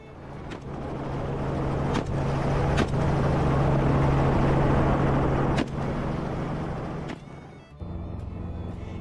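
Helicopter carrying hunters to a wild boar hunt in Texas, a loud, continuous rotor and engine drone close by, with brief dips and thumps as it flies.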